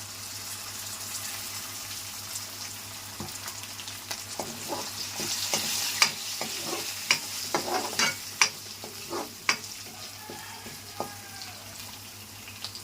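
Mustard seeds, curry leaves and green chillies frying in hot oil, a steady crackling sizzle that builds midway with sharp popping bursts and spattering crackles, close by with no talking.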